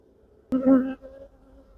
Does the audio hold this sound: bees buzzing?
yes